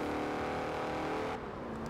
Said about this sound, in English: it's got a rumbly V8, it's quite quick, it's top of B-class